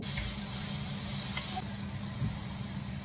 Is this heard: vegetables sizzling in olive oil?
yes